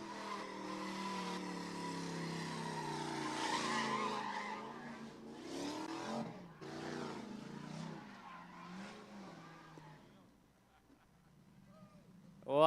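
A big drift car slides around the pit at a stunt show, tires squealing and engine roaring in long sweeps. The squeal fades, a lull follows, then a sudden loud burst ends the run, all under a cheering crowd.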